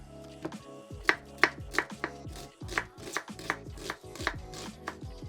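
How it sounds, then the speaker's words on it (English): An onion chopped on a chopping board, with sharp, close knife strikes landing in an uneven rhythm of about a dozen cuts and occasional louder thumps. "Right, let's chop this onions."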